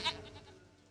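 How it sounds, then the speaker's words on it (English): A goat in The Witcher 3 lets out a single short bleat, fairly quiet, with nothing else around it. "Goat of mine, dearest, sweetest goat."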